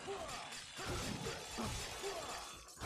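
A frozen enemy shatters in Mortal Kombat: Armageddon, a crisp icy smash with tinkling fragments that rings on over quiet game background.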